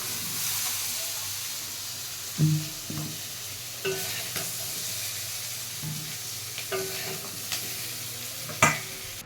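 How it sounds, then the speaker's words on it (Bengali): Young jackfruit fries in a pan with a constant hiss and sizzle, broken by a few soft scraping and knocking stirs against the pan, close by and without talk. "এঁচোড়টা ভালো করে একটু ভেজে নেব।"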